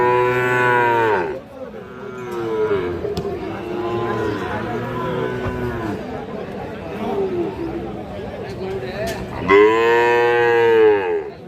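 Sahiwal bull calves at a busy cattle market give loud, drawn-out moos at the start and end, with steady crowd chatter and talking in between.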